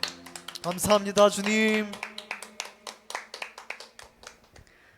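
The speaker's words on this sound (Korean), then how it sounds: "하나님 아버지께 영광의 박수 올려드리겠습니다." Church congregation clapping together at a Sunday worship service, a steady run of sharp claps after a burst of sung or spoken voices, fading as a voice speaks over the end.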